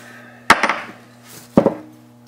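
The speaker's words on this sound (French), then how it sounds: "C'est là où le marteau prend tout son intérêt et je vais aller sur la dalle en béton et juste le casser tout simplement" A hammer striking plastic casing on a magnesium bar against a concrete slab, giving two loud, sharp cracks about a second apart, each with a short rattling tail, over a steady low electrical hum.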